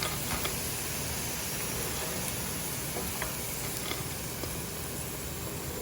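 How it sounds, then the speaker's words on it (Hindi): Chicken pieces deep-frying in oil for Chinese-style chicken Manchurian, a steady close hiss and crackle of sizzling with faint pops throughout and no talking. "मुझे एक्चुअली 3 दफ़ा में करना पड़ेगा क्योंकि ऑयल इनफ नहीं था कि मैं इसमें पूरा चिकन डाल देती, तो मैं 1 दफ़ा और इसे फ्राई करूँगी।"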